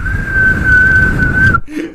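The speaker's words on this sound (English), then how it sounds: "This example of a curious whistle." A single steady, high whistled note held for about a second and a half over low background rumble, then a short faint sound after it.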